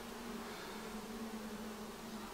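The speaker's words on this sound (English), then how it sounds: "Look at all them bees." Honeybees in an opened hive at a sugar factory, a continuous low drone of many wings buzzing close by, steady and unbroken.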